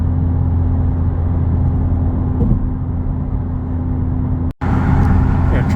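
A 2021 Honda Civic Type R with a Megan Racing exhaust pulls in third gear, heard from inside the cabin as a loud, steady low engine drone and road roar, briefly cutting out before resuming.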